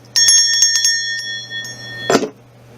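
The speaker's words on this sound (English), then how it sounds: "actual Wiccan bell" A Wiccan bell rung by hand gives a series of quick bright rings, then a single louder strike near the end whose tone lingers briefly before fading; the ringing is heard alone with no talk.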